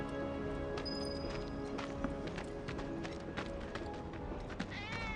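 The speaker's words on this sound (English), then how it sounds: "that was definitely a cat" Cat meowing somewhere in a Final Fantasy VII Remake street scene, a few short faint meows over game music and ambient hoof-like clatter.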